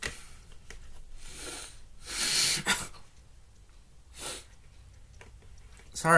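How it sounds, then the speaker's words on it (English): A sharp, close sneeze burst followed by a shorter snort and a quick nasal blow, with quiet breathy noise between them. "I was like trying to sneeze and then trying to blow my nose at the same time"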